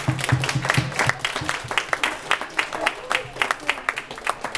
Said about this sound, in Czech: Potlesk pro Markétu.